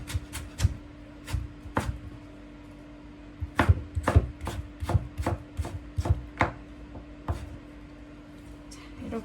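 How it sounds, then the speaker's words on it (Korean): A knife julienning German radish strikes a cutting board in irregular bursts of crisp, close chops with short pauses between runs and no talking. "채 썰어 주시면 됩니다"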